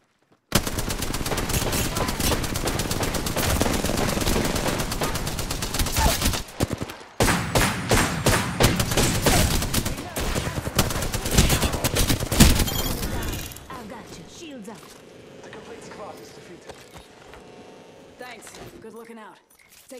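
Automatic gunfire from the battle royale game Apex Legends, dense rapid bursts filling the first thirteen seconds with a short gap near seven seconds, then fading to quieter in-game ambience with scattered faint shots.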